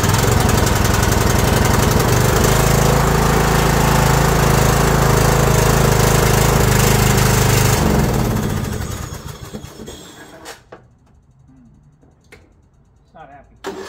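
An old abandoned Yardman lawn tractor engine runs loud and rough at close range for about eight seconds, then dies away into quiet clicks and knocks.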